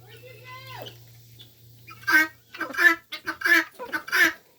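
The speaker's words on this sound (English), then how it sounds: "She's a wild chicken now." A wild-acting hen gives a rising-falling squawk, then a steady series of four or five sharp clucks at regular intervals, close and fairly loud.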